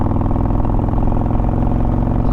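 A modified Harley motorcycle engine running with throttle applied, a loud, close, deep throbbing drone with a steady pulsing rumble throughout and no voices.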